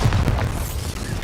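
A Bombarda spell in Hogwarts Legacy explodes with a heavy, close boom, and its rumbling blast fills the short moment.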